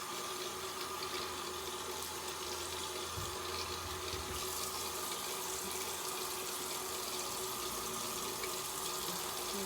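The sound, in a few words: water running while rinsing face at sink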